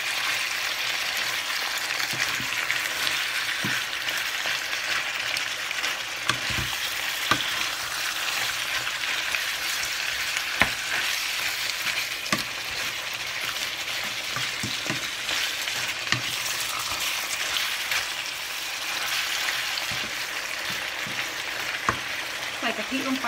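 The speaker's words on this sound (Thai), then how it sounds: "เราให้น้ำมันคุกคิกกันจ้ะ" Curry paste fries and bubbles steadily in hot oil, a dense continuous sizzle close up with occasional sharp pops and scrapes.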